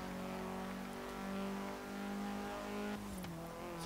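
A 2016 Vauxhall Corsa VXR in Forza Horizon 3 revs hard with a raspy, steady engine roar at high RPM, then shifts sharply near the end, loud and close with no talking.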